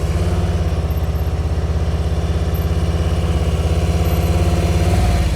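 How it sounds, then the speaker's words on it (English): A motorcycle engine idles close by with a steady, even mechanical pulse that holds at a constant level throughout, with no clear throttle blips standing out. "Listen to his throttle."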